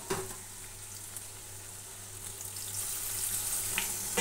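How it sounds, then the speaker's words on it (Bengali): Spice masala of chilli powder, turmeric, cumin powder and salt sizzles in a pan just after hot water is added, a steady close hiss and crackle with no talk. "এবার মশলাটাকে কষিয়ে নেব।"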